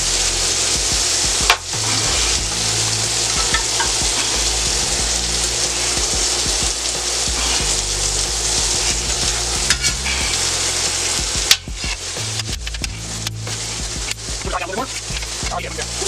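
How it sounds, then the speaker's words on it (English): Cut-up chicken breast sizzles loudly in a pan with teriyaki sauce, a steady frying hiss running throughout with scraping stir strokes and occasional clanks, while a voice talks over it. "Now I'm going to add my teriyaki sauce to it."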